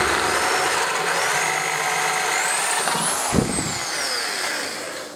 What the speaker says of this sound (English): So now it's time to start ramping up the drill bit sizes.